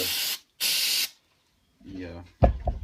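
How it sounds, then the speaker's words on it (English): Two bursts of harsh aerosol spray from a can of carburetor cleaner hiss loudly up close on a 2002 Honda XR250 carburetor, separated by a short pause, followed by someone speaking. "Take a can of carb cleaner and just kind of spray everything down."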